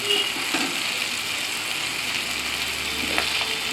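Water poured into hot oil and spices in a pan, setting off a steady, broad hiss of sizzling that holds close and fairly loud throughout, with a few faint clinks and no talk.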